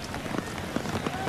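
Rain falls on the football stadium at the 2009 GMAC Bowl between Ball State and Tulsa, a dense, continuous patter of drops hitting surfaces, steady and close with faint crowd or voice traces beneath.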